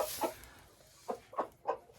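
A rooster in a straw-bedded winter coop calls to his hens with a few short, soft clucks in quick succession, close and fairly quiet.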